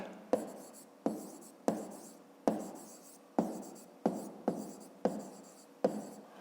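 A pen marks points on paper in about nine short, scratchy strokes, each with a quick decay, at a steady unhurried pace. The strokes are close and quiet, with no voice.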